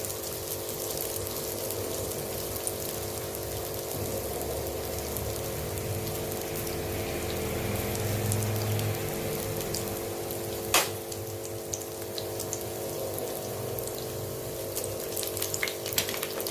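Bombay duck bhajiya frying in oil on a medium flame, a steady hiss and bubbling with a low hum running underneath, continuous and fairly even, with one sharp clink partway through.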